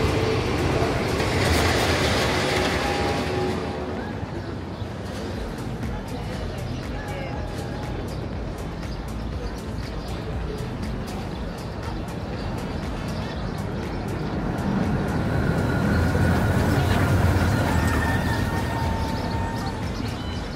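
Magnum XL200 roller coaster at Cedar Point rumbling along its track, a loud continuous roar and rattling clatter with wind rush, rising and falling in intensity, with voices mixed in.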